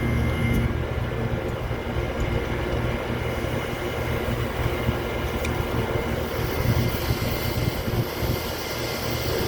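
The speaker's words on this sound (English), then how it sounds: "So we'll go ahead and rinse it now." A water hose sprays and rinses the condenser coil of a commercial York HVAC system, a loud, steady broadband rush of water that carries on unbroken for nearly ten seconds with no one speaking.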